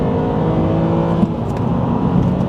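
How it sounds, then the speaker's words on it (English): Engine of a Subaru Legacy 3.0R with short gearing pulling hard, a loud close-up rising drone as the car accelerates, with a faint passing vehicle around it. "someone comes flying past like this maniac in the Camry"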